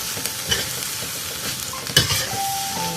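Vegetables and squid stir-fried in a hot pan, a steady loud sizzle with scraping stirs and a few sharp clanks of the utensil against the pan, no voices.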